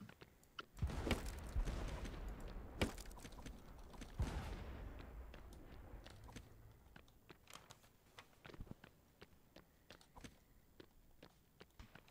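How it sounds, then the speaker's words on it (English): Gunfire aimed at the player in the pirate video game Blazing Sails, heard as sharp scattered shots, with dense bursts early on and thinner isolated cracks later, moderately loud with no talk. "Oh shit! I'm getting shot at."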